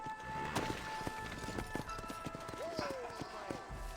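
Horse hooves clip-clopping in the Red Dead Redemption video game on PS4, a steady trotting beat heard under game music and tones, with a voice speaking over parts of it.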